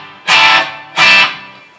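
Electric guitar played through a delay pedal with a built-in boost, two bright sustained strummed chords ringing out one after another, each trailing off into a soft repeating echo tail.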